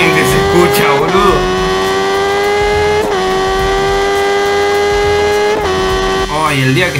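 A loud motorcycle engine held at high revs, a strong steady drone with several quick shifts in pitch as the throttle changes.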